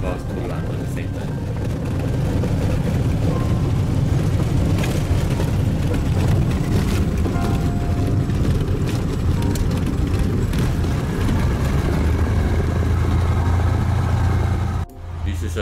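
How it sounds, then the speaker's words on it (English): A small airplane engine drones steadily through takeoff from a gravel bar, a loud, low, continuous roar with the throttle varying slightly, dropping off abruptly near the end. "You can hear the motor and Joke working the throttle."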